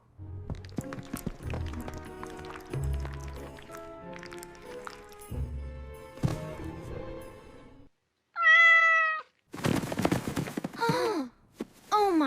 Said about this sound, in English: We thought it was ugly, but it is a cute little cat.